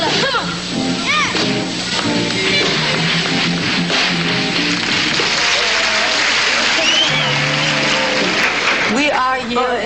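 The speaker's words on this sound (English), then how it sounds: "First give me some of that soul clap." An audience claps a rhythmic soul clap in a television studio, dense and continuous throughout, with voices and music mixed underneath.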